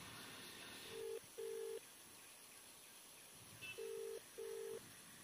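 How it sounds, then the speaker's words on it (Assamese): A phone's ringback tone sounds in two pairs of short, steady beeps, faint and evenly spaced over quiet background hiss. "এটা কাম কৰো পিতমক ফোনটা কৰি লওঁ আগত"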